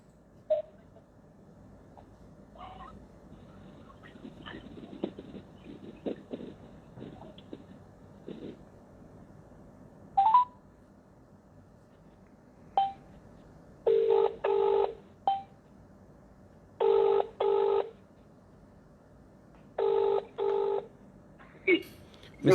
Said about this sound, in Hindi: मिस्टर DS परिहार, इनको जरा काट के फिर से लगाइए फोन।